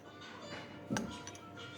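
A glass drinking cup gives a single bright clink near the middle, close and fairly clear, with faint handling noise around it and no talk.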